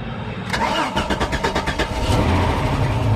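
A 1989 Jeep Cherokee XJ engine cranks in a rapid rhythmic chug for about a second and a half, then catches and settles into a loud, steady idle close by.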